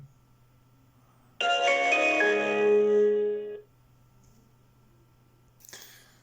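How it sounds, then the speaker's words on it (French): A Victure PC660 security camera plays a short startup melody of bright tonal notes lasting about two seconds, clear against a low steady hum, followed by quiet and a brief rustle. "Elle va faire une petite musique."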